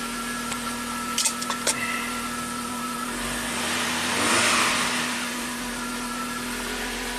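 An Audi turbo car, freshly repaired with a new alternator, hums along on a mountain road test drive, its steady engine drone swelling briefly as it accelerates, with a few clicks early on and no talking.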